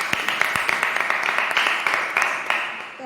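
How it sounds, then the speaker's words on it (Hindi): Steady applause from a church prayer gathering welcoming a speaker, many hands clapping at a close, even pace for a few seconds before fading out. "जोरदार तालियों से स्वागत करते हैं।"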